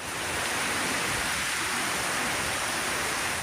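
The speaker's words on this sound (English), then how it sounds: "The ferocity of the downpour a surprise." Heavy rain pours down in a dense, steady roar during a sudden downpour in Queensland's Fraser Coast, loud and continuous throughout with no voices.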